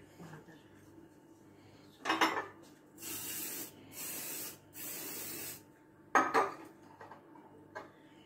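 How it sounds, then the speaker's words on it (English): Cooking spray hisses onto a muffin pan in several short bursts, about three sustained sprays between sharper metallic clatters of the pan being handled, close and fairly quiet in an otherwise still room. "I've just sprayed and cooked the muffin pan."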